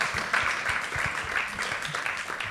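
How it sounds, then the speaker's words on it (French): An audience applauds after a French talk, with steady clapping that swells and continues at moderate loudness throughout, and a few low voice fragments underneath. "On peut l'applaudir également"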